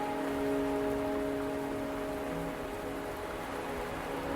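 Steady rain falls in a Wuthering Waves game scene, an even hiss of drops on surfaces heard alone with faint tonal music beneath it.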